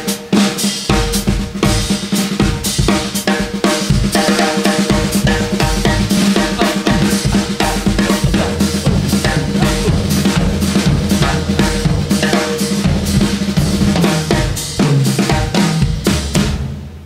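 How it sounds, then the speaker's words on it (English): A DW 14x6.5 stainless steel snare drum, tuned loose, played in a New Orleans groove with snare wires buzzing, the steady busy pattern running loud and continuous before slowing and fading near the end. "You can hear the snares in the background"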